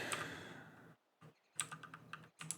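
Computer keyboard keys typed in quick bursts with short pauses between, clattering close and fairly quiet, during a CS:GO game.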